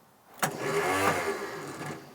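A seized Ford Cortina Mk1 barn-find engine is cranked over by its starter: a sharp click, then about two seconds of steady, rhythmic churning that stays close and fairly loud without catching.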